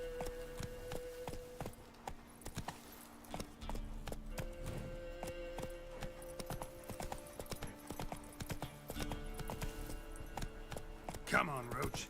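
A horse trots in The Witcher 3: Wild Hunt, with rapid, crisp hoofbeats clopping steadily throughout, mixed with game music tones and a player's voice talking over it.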